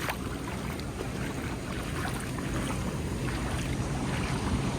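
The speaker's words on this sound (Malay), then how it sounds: "saya nak cuba redah lah sebab air ni tak berapa dalam eh" Vehicle pushing through shallow flood water on a street in Sibu, Sarawak, a steady wash of churning water and wind-buffeted rumble throughout, with no talking.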